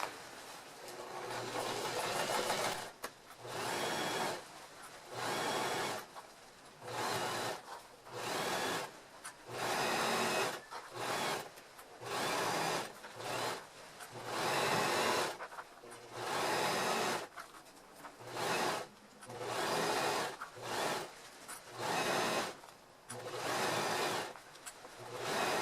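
A sewing machine runs a zigzag stitch along the very edge of fabric while a bread basket is being made, close and loud, in repeated bursts of stitching separated by short pauses across the whole stretch.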